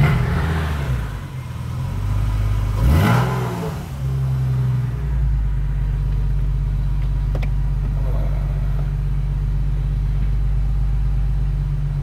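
A Porsche Boxster engine cold-starts at 32 degrees with a short cranking whir, then catches and flares to a loud rev before settling into a steady, rumbling idle.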